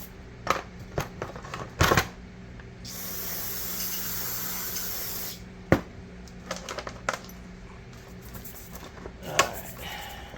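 Cleaner sprayed onto a Quadrajet four-barrel carburetor, one sustained hissing spray amid scattered clicks, taps and clinks of parts being handled close by.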